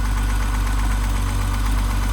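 A BMW 635csi E24 with its 3.5-litre M30 straight-six idles steadily close by, a continuous low rumble with a faint rhythmic pulse and no voices over it.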